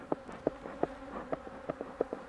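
Honey bees buzz close by in a soft, continuous drone during hive work, with a series of brief sharper buzzing pulses at an irregular rhythm.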